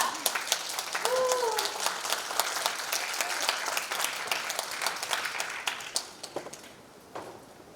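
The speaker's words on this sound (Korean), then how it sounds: "뜨거운 박수로 맞이해 주시기 바랍니다." Loud, sustained applause from an audience at a public forum in Gyeonggi Province, South Korea, fills the space with dense clapping, tapering off near the end.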